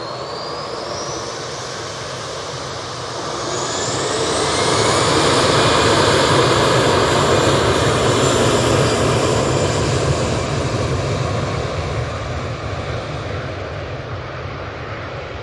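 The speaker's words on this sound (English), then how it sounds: "And that EasyJet's off to Hamburg." An EasyJet airliner takes off from Manchester Airport for Hamburg, its engines spooling up with a rising whine, then a loud swelling roar that peaks midway and fades slightly as it climbs out, with no voices.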